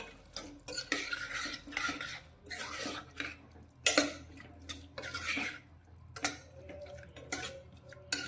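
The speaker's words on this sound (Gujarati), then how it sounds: "તો હવે આપણે જે મસાલો તૈયાર કરીને રાખ્યો છે તેને આપણે શાકમાં લઈ લઈશું અને સારી રીતે મિક્સ કરીશું." A spoon scrapes and stirs spice mix into ridge gourd curry in a pan, producing faint, intermittent metallic scrapes and clinks in irregular strokes.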